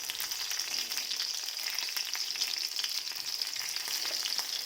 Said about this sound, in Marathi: एक अर्धा चमचा तेल सोडलेलं आहे आणि त्याच्यातच आपल्याला आता पहिलं जे आपण हिरवी मिरची बारीक करून घेतलेली आहे ती टाकायची आहे